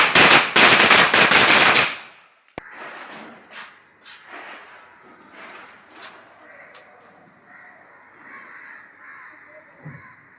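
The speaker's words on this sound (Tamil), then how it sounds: "காலையில் இந்த மாதிரி எழுந்து விடிய காலைல 4-4:30 பட்டாசு வெடிக்கிறது ஒரு ஜாலி." Diwali firecrackers burst at dawn: a loud rapid string of cracks for about two seconds, then a single sharp bang, followed by quieter scattered pops and distant bursts under faint voices.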